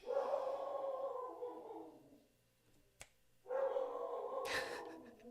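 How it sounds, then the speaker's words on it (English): Dogs bark and yip in bursts at a distance, fairly faint, with a lull in the middle before another round of barking. "The dogs are barking, guys."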